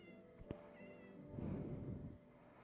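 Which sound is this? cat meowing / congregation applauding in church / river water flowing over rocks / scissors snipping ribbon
cat meowing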